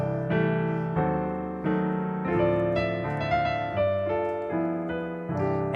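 A ballad rendered on solo piano with diminished chord colorings, lush chords rolled and restruck roughly once a second in a relaxed ballad pace, close-miked and steady, no talking.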